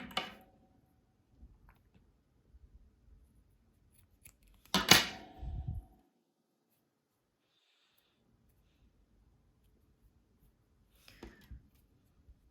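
Scissors trim excess needle lace thread with a few crisp, close snips: one at the start, a louder cluster in the middle and a faint pair near the end, separated by quiet.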